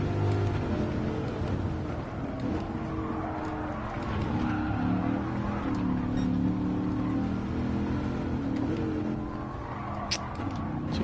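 A race car engine in a racing video game drones and revs continuously at close range, pitch wavering up and down, with a rough, gritty texture and a brief clack near the end.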